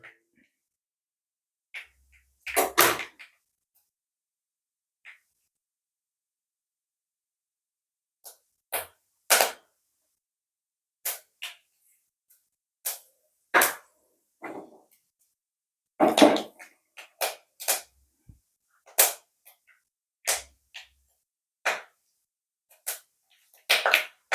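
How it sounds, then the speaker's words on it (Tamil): Mustard seeds and fenugreek spluttering in hot oil in a pan, sharp isolated pops and crackles at irregular intervals with silence between, bunching into quicker clusters later, close and crisp. "இப்போ கடுகு வெடிச்சிருச்சு, வெந்தயம் வெடிச்சிட்டு இருக்குங்க"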